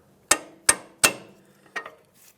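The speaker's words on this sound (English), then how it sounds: "what we're going to do now is push one of our bolts out." Bolt being driven out of the strut knuckle on a 2011-2017 Honda Odyssey, three sharp metallic hammer strikes in steady rhythm followed by two lighter taps, close and clear with no talk.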